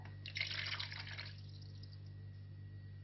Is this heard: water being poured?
yes